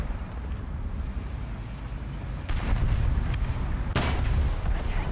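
A Tiger H1 tank in a video game fires its cannon, a sudden loud blast rising out of a low rumbling engine drone near the end, with a softer thump shortly before.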